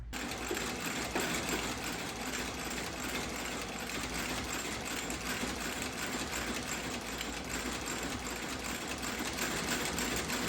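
Sewing machine stitching leather soles onto Iron Ranger-style boots, a close, steady mechanical whir running continuously and loud throughout with no voices.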